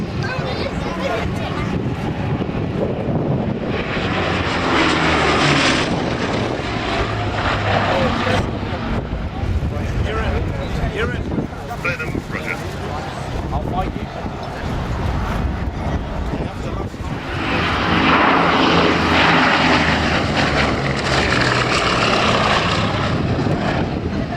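A Bristol Blenheim aircraft flies at the Old Warden air show, its propeller engines droning loudly and steadily throughout, swelling toward the end, while a commentator talks over it.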